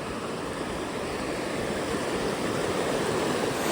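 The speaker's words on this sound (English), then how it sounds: "It's a pretty sweet river crossing" River water rushes at a crossing on a trail to the Ivanovskiye lakes in Khakassia, swollen with snowmelt, making a steady, broadband roar that stays close and continuous without any talk.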